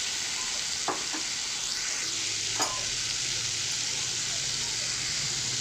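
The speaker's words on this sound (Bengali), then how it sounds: "আমড়াগুলো দিয়ে একটু নাড়াচাড়া করে একটু হালকাভাবে ভেজে নেব" Hog plums (amra) fry in spiced oil, a constant loud sizzle and hiss with a few sharp scraping stirs against the pan.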